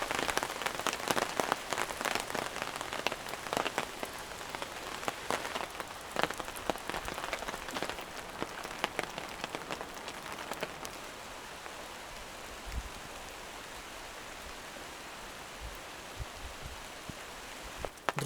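Rain patters steadily on leaves and the ground of a forest clearing where an old-style log cabin is being built on a windy day. The hiss is dense and even at first, then thins to softer scattered drops with a few low thumps.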